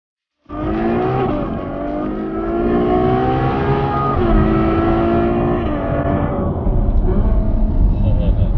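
A Ferrari GTC4 Lusso's engine revs and pulls hard through gears on tight twisty roads, a loud, sustained roar rising and falling with shifts, heard from inside the car; a voice may be faintly present beneath it.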